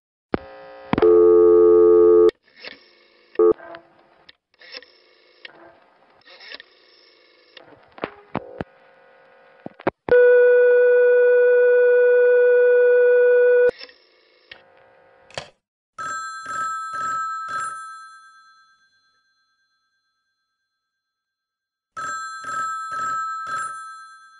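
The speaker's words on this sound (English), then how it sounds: "the telephone company test lines, such as 660, which was the code for the ringback test line" Telephone company ringback test line in the downstate New York area, served by number one crossbar switching, producing mechanical tones: bursts of ringing, a long steady tone, clicks and relay noises, then repeated pulsed high-pitched tone cadences with a silent gap between them.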